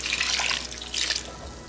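Water splashing into a cooking pot for soup, a cup and a half added over chicken bouillon, heard as a close, hissing pour in two bursts with a short lull between them.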